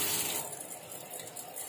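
Whey trickles and splashes steadily as homemade mozzarella curd is squeezed by hand, a soft continuous watery hiss with no talk.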